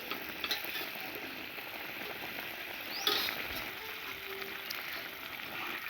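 Eggs frying in a spiced masala in a pan, a soft, steady sizzle with light stirring clicks and a brief louder splash partway through, heard quietly without talking.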